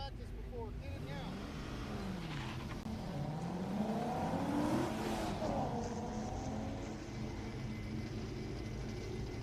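The 85 Toyota MR2 Spider race car runs the Daytona autocross course, its engine note rising and falling in sweeping revs as it works through the turns at moderate distance.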